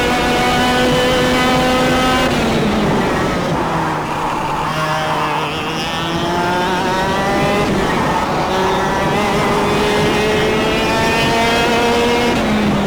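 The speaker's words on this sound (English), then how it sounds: "the karts do a good job of sounding like high-powered lawnmowers going at 100 kph" Racing kart engines in the KartKraft simulator whine loudly and continuously, their buzzing, lawnmower-like pitch rising and falling through shifts and acceleration, with several karts overlapping close by.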